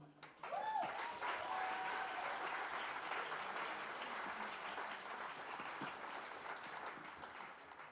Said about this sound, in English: Big applause to you.